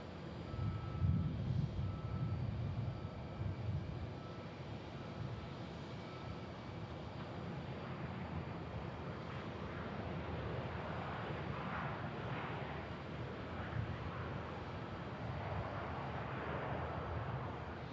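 A WestJet airliner arriving from Calgary at Houston Bush Intercontinental Airport gives a steady, broad jet engine roar that holds at a moderate distance for the whole stretch, with no voices.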